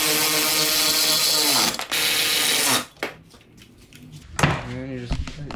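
A ratchet tightens the bottom bolts of a cooling fan mounted above the winch on a Can-Am Outlander 850 XT ATV, giving dense rapid clicking for about three seconds and then a few shorter, quieter bursts.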